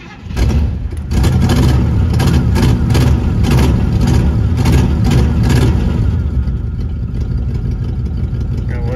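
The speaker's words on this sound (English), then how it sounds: "Give her a few pumps. See if she'll actually start." A 1962 Chevy Impala V8 with a carburetor and an exhaust leak cranks briefly, catches and settles into a loud, rough, steady idle with a few revs, heard up close.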